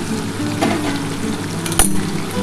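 Potato, bitter gourd and pointed gourd slices fry in fish oil in a pan, a steady close sizzle with stirring scrapes and one sharp metallic clink.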